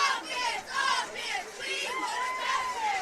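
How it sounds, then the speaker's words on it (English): A big crowd at an evening high school football game for the Gordonsville Tigers cheers and yells from the far sidelines in swelling waves of shouts and whoops. "that crowd over there on the far sidelines is getting jacked up"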